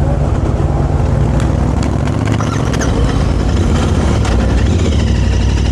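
Royal Enfield Continental GT 650 belt-drive motorcycle, a heavy twin-cylinder bike, engine started and running at a steady, loud idle close by, with a constant low rumble throughout and no voices.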